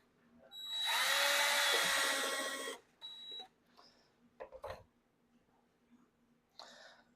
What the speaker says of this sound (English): We're going to drill a pilot hole at the drill here mark at the center of that crosshair.